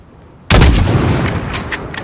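A single sniper rifle shot in Call of Duty: Modern Warfare (2019) cracks out loud and close after brief quiet, followed by a long rumbling echo and a faint metallic bolt click.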